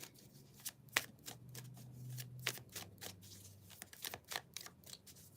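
Tarot cards being shuffled by hand, a run of crisp riffling bursts and slaps in an irregular rhythm, close and fairly loud over a low room hum.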